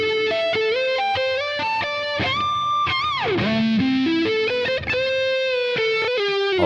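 A plugin reverb trails behind a dry melodic signal of bright, harmonic-rich synth-like notes that step and bend in pitch. The effect adds a washy tail without swamping the original, and it plays loud and continuous with no voices.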